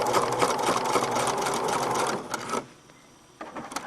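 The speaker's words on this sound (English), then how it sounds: "now I'm going to sew down this length." A sewing machine stitches down an elastic casing with a steady, close, continuous whir that stops abruptly, then starts again briefly at the end.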